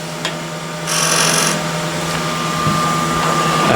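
A scraper cuts a wooden bowl spinning on a lathe, giving a rough, rasping scrape with a brief louder burst early on over a steady motor hum, close up.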